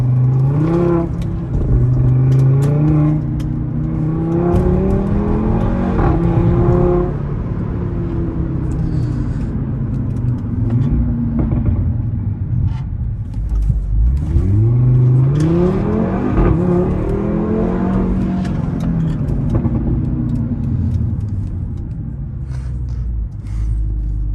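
Audi RS3 driven hard in Dubai, accelerating repeatedly: loud, close engine roar rising through rev sweeps and gear changes, with two clear bursts of acceleration separated by a calmer stretch.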